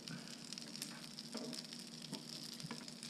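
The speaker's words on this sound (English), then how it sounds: "Bacon is cooking quickly." Bacon frying on a Blackstone griddle, a steady, close hiss and crackle of fat that carries on without a break, with a few faint pops.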